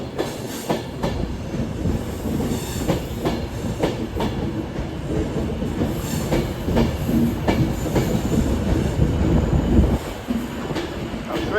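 A passenger train rolls through Carlisle station, steady loud rumble with rhythmic clickety-clack of wheels over rail joints and faint wheel squeal, continuous and close throughout.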